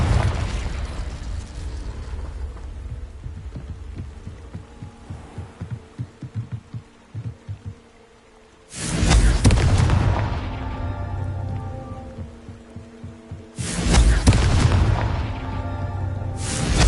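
Two booming blasting-curse explosions from a wizard video game, each a sudden loud burst that rolls into a ringing decay, separated by a quieter rumbling stretch and a brief near-silence.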